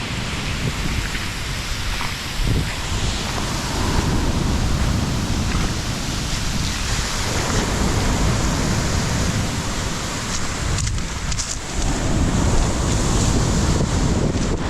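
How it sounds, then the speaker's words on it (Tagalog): Strong sea waves on a beach in Aurora crash and wash onto the shore in a continuous loud roar with wind buffeting the microphone, surging again near the end. "Lakas ng alon."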